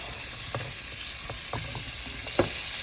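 Carrot, celery and onion sauté in a pot for chicken noodle soup, giving a steady close hiss of frying with a few scattered soft clinks and stirring knocks throughout.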